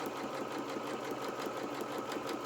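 A sewing machine stitches waistcoat fabric in a steady, continuous whir of rapid needle beats, fairly quiet and close, with no talking.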